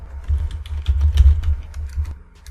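Fingers type on a computer keyboard in quick, close clicks and clacks, fairly loud and steady over a low rumble, with no talking.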